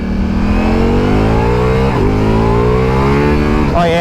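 A Ducati Multistrada Pikes Peak motorcycle revs hard under acceleration into a wheelie, its close, loud engine note climbing steadily in pitch, dipping briefly at a gear change, then rising again before another shift near the end.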